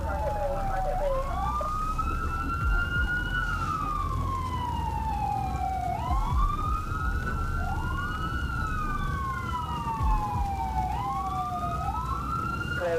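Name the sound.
police and ambulance sirens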